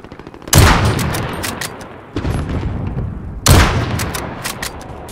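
Loud, close gunfire from Call of Duty Modern Warfare comes in three heavy bursts of rapid shots and booms, with a dense rattle of fire continuing between them.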